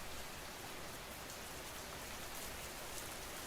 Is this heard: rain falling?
yes